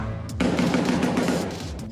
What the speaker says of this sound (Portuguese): A noite foi marcada pelo som dos tiros